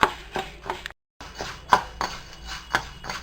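Urad dal dry-roasts in a pan on a stovetop, with a utensil stirring and scraping through the lentils in a loose rhythm of sharp clinks and taps, briefly cut off by a moment of silence.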